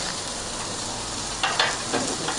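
Buffalo mini burgers frying in a pan give a steady broadband sizzle, with a few louder spits and crackles near the end of the short stretch; no one speaks over it.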